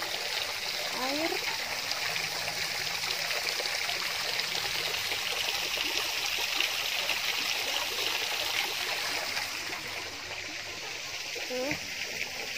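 A stream flows beside a house in a pine forest, its steady rushing and trickling water filling the scene continuously, with a few faint voices and bird-like chirps briefly over it.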